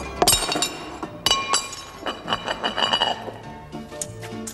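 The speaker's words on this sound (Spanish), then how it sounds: "Es difícil poner las tazas." Cups clink sharply as they are set down on a table, a few close glassy knocks and rattles in an irregular sequence with no talking.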